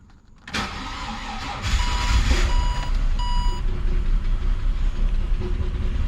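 A Ford Fairlane engine fires up after sitting unused for two years and runs roughly on dirty fuel, a sudden loud start followed by a steady, rumbling idle that builds louder and continues to the end.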